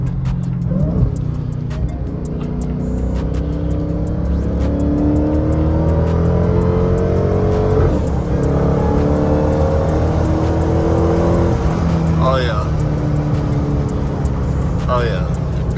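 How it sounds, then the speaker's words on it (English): A Dodge Charger Hellcat fitted with a JLT cold-air intake pulls hard through the gears from inside the cabin, a loud, steady engine roar climbing in pitch with supercharger whine and quick shifts, continuous throughout. "let me do a window pull, see if y'all can see what it sounds like with the windows up"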